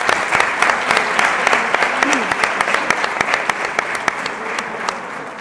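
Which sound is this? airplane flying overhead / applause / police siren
applause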